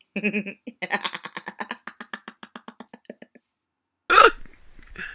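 A voice imitates a guard's hiccup, starting with a rapid train of short vocal pulses that grow quieter and stop, followed after a pause by one loud burst of sound and a short trailing tail.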